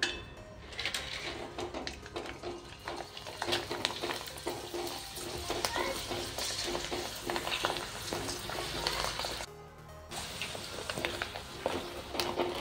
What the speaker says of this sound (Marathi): आता पापड आपण या तेलात तळून बघूया